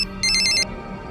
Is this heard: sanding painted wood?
no